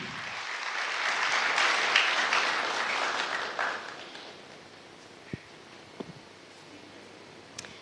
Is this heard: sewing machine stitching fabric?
no